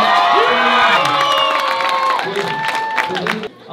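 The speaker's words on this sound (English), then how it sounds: "we need like some kind of round of applause" Children at an elementary school's December event cheer and shout together with scattered clapping, a loud, dense crowd din that holds steady for several seconds before dropping off near the end.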